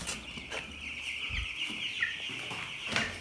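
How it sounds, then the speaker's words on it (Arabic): Chickens cluck and chatter at feed, a steady flock murmur with repeated close clucks and soft low thumps, no talk. "بصوا شايفين الفراخ عملت ازاي؟"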